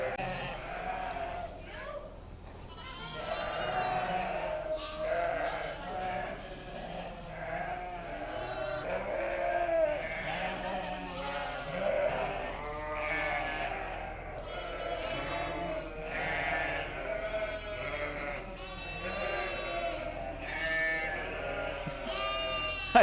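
Sheep and lambs bleat repeatedly inside a sheep barn, a dense chorus of overlapping calls at close to mid distance, continuous throughout with a steady low hum beneath.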